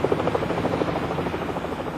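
A police helicopter circling overhead during a search of a park for fleeing car thieves, its rotor thudding in a fast, even pulse at moderate distance.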